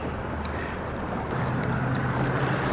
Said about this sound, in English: This is the Mississippi River, and it's flowing quite swiftly at this point.